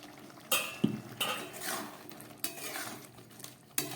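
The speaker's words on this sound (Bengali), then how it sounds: "চলুন ঢাকাটা খুলে দেখি কতটা হয়েছে।" A lid comes off a pot of chickpea curry (kabuli chana ghugni) with a few metallic clanks and scrapes, then a soft bubbling simmer in between, fairly quiet and close, with no voices.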